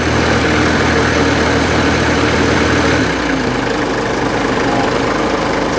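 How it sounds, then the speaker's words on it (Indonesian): A Toyota Land Cruiser HJ45 hardtop long station wagon's diesel engine idles smoothly, a loud, steady, close rumble that drops slightly in pitch partway through, with no voices. "mesinnya halus, gak ada asap ya"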